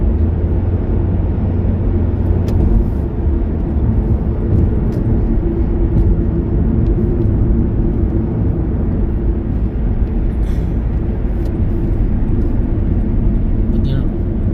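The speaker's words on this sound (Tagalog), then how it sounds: "Traffic siya." Steady low road rumble of traffic heard from inside a moving car on a Canadian road, a continuous engine and tyre drone throughout with no clear pass-bys.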